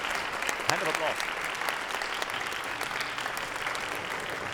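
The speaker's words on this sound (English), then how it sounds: "Hand of applause" Conference audience giving steady applause to welcome an Intel VP of Wireless Access on stage, an even roomful of clapping with a brief voice near the start.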